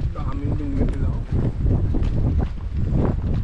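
Strong gusty wind rumbles against the microphone outdoors by the water at Whatipu Beach, New Zealand, with people fishing and talking faintly under the steady roar.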